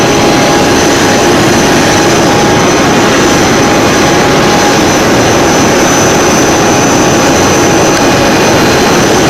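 Jet aircraft engine at Moses International Airport in Lesotho, a loud, steady roar with a high whine layered on top, continuous throughout and heard alone.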